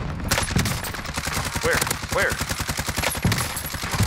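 Automatic gunfire in Modern Warfare Warzone, a rapid continuous stream of shots that runs almost without a break at fairly close range, with a brief spoken word over it.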